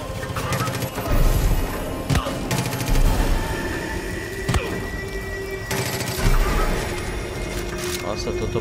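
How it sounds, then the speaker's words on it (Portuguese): Bursts of Far Cry 5 video game gunfire crackle in quick clusters over a steady music and effects bed, loud and close. "Nossa, tô tomando tiro"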